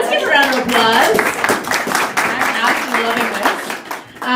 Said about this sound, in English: Again, let's give a round of applause.